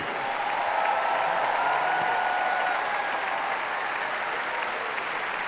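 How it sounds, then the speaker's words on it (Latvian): Audience at the closing concert of the 2018 Latvian Song and Dance Festival applauds the radio choir men, a broad, even wash of clapping from a large crowd that sustains at full strength throughout. "aplausi brašajiem radiokora vīriem"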